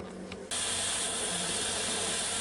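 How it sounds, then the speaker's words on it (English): Steam hisses from the valve of a Ninja Foodi Deluxe pressure cooker, jumping from a soft start into a loud, steady, close hiss that carries on unbroken. "we've got some steam coming out from around this little silver button here, and that's making a little noise"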